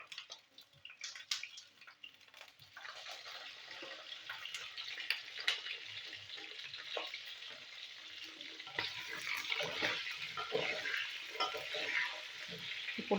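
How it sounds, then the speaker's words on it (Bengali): Salted pointed gourd (potol) frying in oil in a pan, a continuous bright sizzle that swells louder over time, with occasional stirring clicks and no voices. "পটলগুলো আমি ভেজে নিচ্ছি এখন।"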